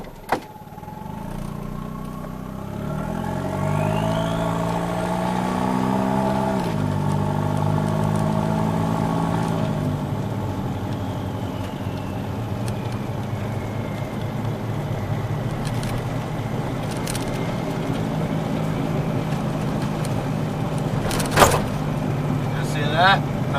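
A budget turbocharged car engine runs steadily after extra fuel is added, its mid-pitched drone rising briefly in pitch early on and then holding a constant note, with a sharp click near the end and someone talking over it.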